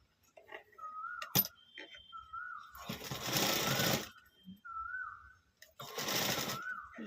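A sewing machine stitches a blouse in two loud, rapid bursts of needle clatter, separated by quiet pauses with faint handling sounds.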